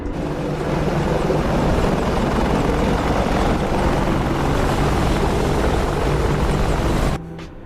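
An Apache attack helicopter in a video game roars close and loud with steady rotor thump for about seven seconds, then cuts off abruptly.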